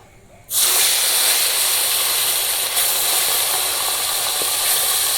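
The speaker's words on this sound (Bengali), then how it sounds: "বাদ বাকি মাছগুলো ভেজে নেব" Pabda fish dropped into hot oil to fry, starting with a sudden loud burst of sizzling that then holds as a steady, dense, close hiss with slight crackles throughout.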